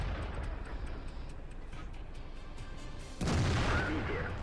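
A tank cannon fires in World of Tanks while an IS-8 engages an E-75 and a 112, one loud sudden boom that leaves a sustained rumbling roar after quiet ticking game ambience.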